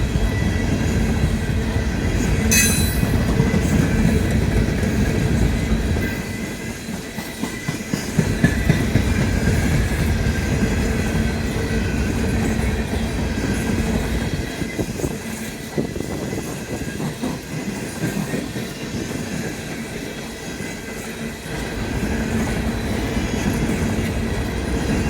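A train rolls past steadily during a snowstorm, a continuous close rumble of rail cars with clattering wheels running through the whole stretch, its level dipping briefly partway before picking back up.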